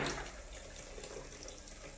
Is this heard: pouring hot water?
yes